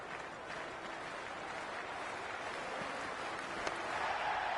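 Steady crowd applause and cheering from the stands at Gaddafi Stadium during an India vs Pakistan 100-ball cricket match in the video game Cricket 26, a continuous even wash of clapping at moderate level with no talk.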